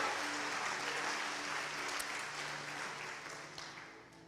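A church congregation claps together in a dense wash of applause that holds steady and then slowly fades away, with no one speaking over it.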